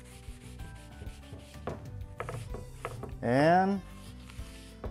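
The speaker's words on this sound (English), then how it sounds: "I'm going to take the abrasive side of a sponge. And we're going to scrub the crayon marks" The abrasive side of a sponge scrubs crayon marks off newspaper in soft, repeated rubbing strokes, with one brief sharp squeak partway through and a few quiet spoken words.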